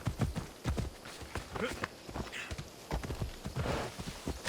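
Rhythmic clip-clop of horse hooves at a trot in the video game Assassin's Creed Odyssey, close and steady, with a faint voice underneath.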